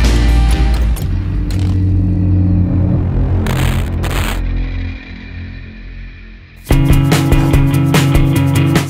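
Deep Harley-Davidson engine with a Screamin' Eagle stage 1 kit idling with a lumpy rumble, dipping lower before a loud burst of revving near the end; no voices.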